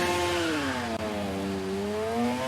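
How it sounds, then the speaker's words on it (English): A Suter superbike engine in the motorcycle racing game TT Isle of Man revs alone, its sharp harmonic whine dipping then climbing again over a couple of seconds. "So we are revving it up then."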